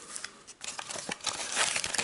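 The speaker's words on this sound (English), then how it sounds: "let's crack it open and see what the Mardu Raiders deck has to offer us" Plastic packaging of a Magic: The Gathering Khans of Tarkir Mardu Raiders intro deck crinkles and tears close up in quick rustling bursts, with no voices.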